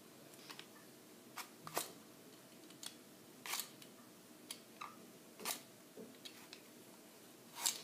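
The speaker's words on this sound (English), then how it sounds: "So just taking my first red apple, I'm going to peel this one." A red apple is peeled by hand, giving scattered faint scraping strokes and soft clicks spaced a second or so apart, close and quiet with no talking.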